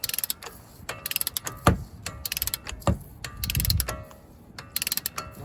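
Sharp mechanical clicks from a ratchet tightening a CV axle, in repeated short bursts with brief pauses between them, fairly close and clear, with no talking over it.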